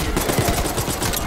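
Rapid gunfire from the Call of Duty: Black Ops 6 campaign, a dense burst of repeated shots with sharp transients continuing steadily through the moment, loud and close.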